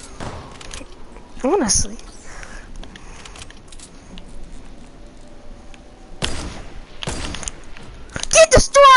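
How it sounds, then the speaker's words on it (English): Semi-automatic rifle fire in a video game cracks out in a few short bursts of rapid shots near the end, mixed with game effects and a voice talking over it. "I'm spamming a semi at some kid."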